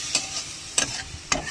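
Masala for egg curry fries in a pan, splashed with water, under a soft sizzle; three evenly spaced scraping strokes of a spoon or spatula stand out clearly.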